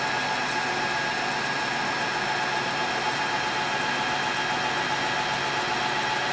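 An Eldorado M75-1031 gun drilling machine feeds steadily through its cut, a constant broadband hiss and hum with a faint tonal whine, unchanging throughout and moderately loud.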